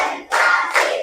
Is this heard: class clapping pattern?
yes